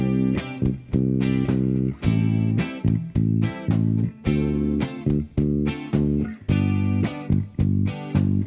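Bass guitar plays root notes along with a full band backing track, the steady bass notes landing in a regular rhythm under loud drums and accompaniment, with no talking.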